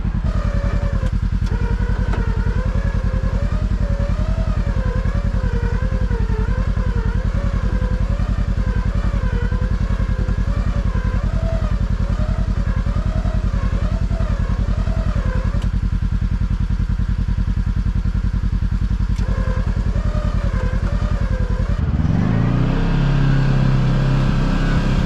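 The engine of a Kawasaki KRX 1000 side-by-side drones steadily while driving through snow, a constant loud mechanical hum with rattling clatter, shifting and cutting out near the end to a lower rumble.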